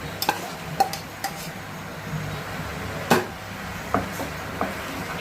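Chicken is added to a pan of sizzling vegetables for a restaurant-style Chinese dish, then stirred. Scattered sharp clinks and scrapes from a utensil come over a low continuous sizzle, and no one speaks.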